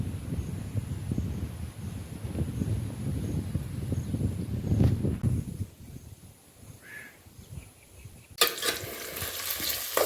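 Potatoes fry in oil tempered with cumin and mustard seeds, a close crackling sizzle with scraping as they are stirred, then a quieter stretch before a louder hiss returns near the end, with no talk.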